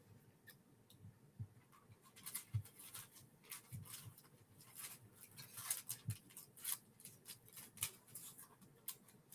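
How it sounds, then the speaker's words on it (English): Scissors snip through foil craft material in a quiet room, giving a run of crisp, irregular cutting clicks and rustles that stay faint and close, with no talking. "Let me grab my scissors here. We're going to cut this down."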